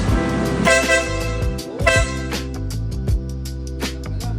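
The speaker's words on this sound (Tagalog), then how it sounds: "Tapos yung busina naman nito is..." A motorcycle horn honks in several short blasts over a steady engine hum, fairly loud and close.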